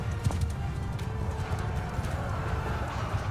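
Horse hooves clip-clop steadily during a battle in Mount & Blade II Bannerlord, a rapid, even patter at moderate distance over a low battlefield din, with a brief whinny near the start.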